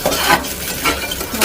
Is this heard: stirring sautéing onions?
yes